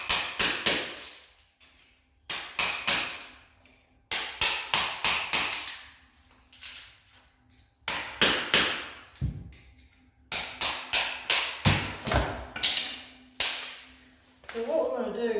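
A hammer strikes a steel chisel to dig carpet tack nails out of a concrete floor, sharp metallic taps in quick bursts of three to six blows, separated by short pauses, close and loud.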